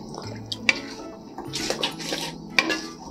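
Water is poured into a pan of paneer gravy at a home stove with a trickling, splashing sound. Light clinks of a utensil against the pan come through, and there is no talk.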